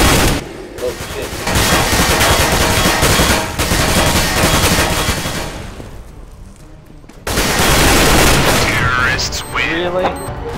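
Rapid bursts of gunfire crackle loudly in Counter-Strike GO on the Nuke map, with sustained automatic fire broken by a brief lull before another heavy volley.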